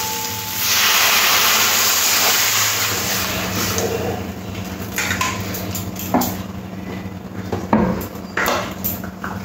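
Water poured into a pan of vegetables frying with turmeric and chilli powder sets off a loud, sudden hiss of steam that holds steady and then settles under occasional clinks of a utensil, with no talking.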